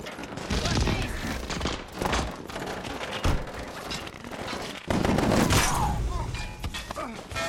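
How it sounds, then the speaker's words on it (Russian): Gunfire in a shootout, with bursts of shots and loud impacts layered under dense, noisy action, surging strongly around the midpoint and continuing through the end. "Нас стреляют."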